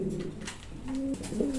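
A pigeon sitting on its eggs gives soft, close, rising and falling coos across several short phrases, with a low background hum.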